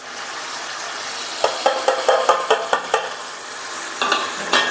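Chilli powder, turmeric and salt land in a pan of frying chicken, a steady close sizzle cut by a run of sharp scraping stirs and clinks of a utensil against the pan.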